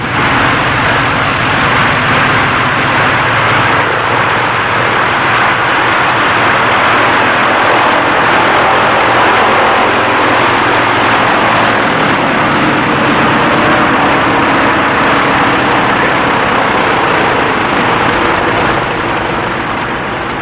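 Light airplane landing at a fishing village airstrip at Puerto Blanco, a loud, continuous engine drone that holds steady for about twenty seconds.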